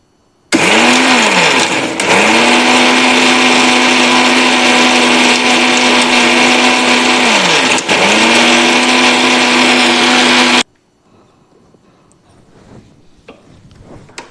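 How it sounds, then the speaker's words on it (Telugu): A kitchen mixer grinder blends ripe red chillies with amla into chutney, running loud and steady for about ten seconds with a brief dip in pitch midway, then switching off to near silence. "ఇప్పుడు దీన్ని మిక్సీ తిప్పుకొని వచ్చేద్దాం."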